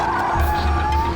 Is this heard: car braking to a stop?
yes